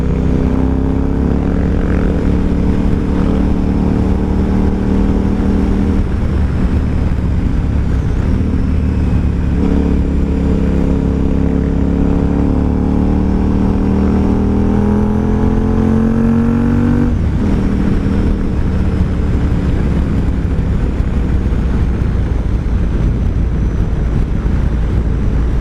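Steady, loud engine drone of a 2012 KTM 990 SMT supermoto touring motorcycle heard while riding, with rising and falling revs as the bike accelerates and shifts gears, continuous throughout with no talking.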